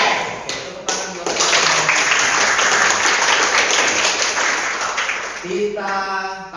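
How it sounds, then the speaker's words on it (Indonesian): A school class applauds during a teaching-practice lesson: a few scattered claps build into loud, full group clapping that fades out, after which a voice begins speaking. "Oke, tepuk tangan buat"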